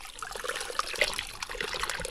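Water trickles from a leaking roadside drinking-water pipe in a Tibetan valley into a bottle, a light, uneven splashing dribble with small bubbly plinks, close by and without talk.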